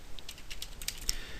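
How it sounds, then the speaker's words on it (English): Rapid typing on a computer keyboard, a quick run of light, close keystrokes with no talking. "slam palm, bang the keyboard"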